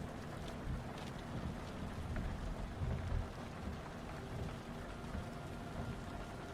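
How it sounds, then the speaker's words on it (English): Steady rain falls on a taxi bus with its engine humming, a dense, even patter with no breaks. "Do you feel the soothing rhythm of the rain lulling you into a peaceful state of mind."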